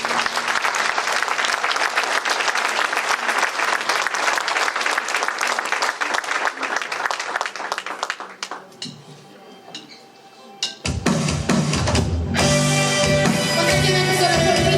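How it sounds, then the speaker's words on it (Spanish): A church congregation applauds in a loud, dense burst of clapping for about eight seconds, then fades into scattered claps and a low lull before music with a beat comes in strongly. "¿Cuánto le dan un aplauso al Señor?"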